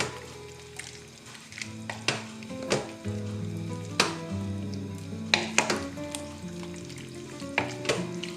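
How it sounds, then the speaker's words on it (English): A spoon stirs a chicken stew in a slow cooker, producing repeated wet squelches and sharp clinks against the pot at irregular intervals over a low background hum, with no talking. "We'll give that a stir, make sure everything's mixed in."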